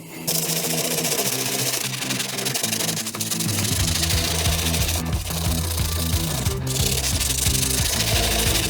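A toothbrush scrubs the Tolex vinyl covering of a Marshall guitar cab in steady, continuous rubbing strokes, loud and close with no talking.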